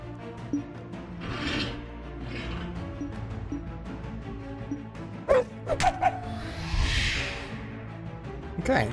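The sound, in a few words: orc hounds barking in The Warlock of Firetop Mountain video game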